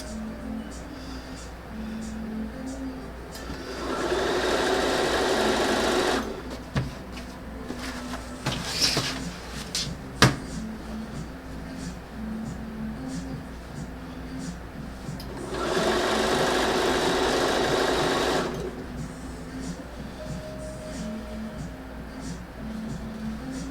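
A sewing machine stitching seams hums in two separate runs of several seconds each, a steady close mechanical whir, with quiet room sounds and small clicks in the pauses between runs.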